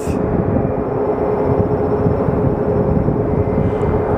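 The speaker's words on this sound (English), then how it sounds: "we do have our Dreamliner approaching the end of runway 8" A Boeing Dreamliner airliner approaching runway 8 at Phoenix Sky Harbor Airport gives a steady, broad jet roar that holds level and loud throughout, with no talking.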